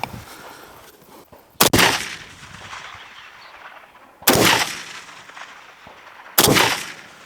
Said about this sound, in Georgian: ხედავ რა მონადირული გასროლები იყო?